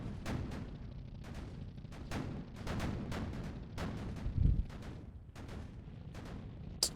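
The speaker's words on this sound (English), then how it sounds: "we took a shot to our gun, but it's fine" Impact of a shell striking the gun of a light tank in the tank-building game Sprocket, one loud bursty hit near the middle among repeated sharp gunfire cracks and booms over a steady rumbling battle background.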